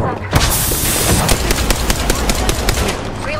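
Rapid automatic gunfire in the video game Apex Legends rattles loud and close in a dense continuous burst, with sharp cracks punctuating it.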